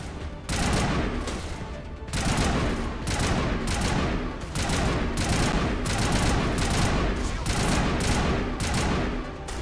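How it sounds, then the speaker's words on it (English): Mass Effect combat with dense, sustained rifle fire from a sniper rifle battle, heavy repeated blasts rolling in waves for nearly ten seconds, loud and close with no voices over it. "I need to use the sniper rifle again"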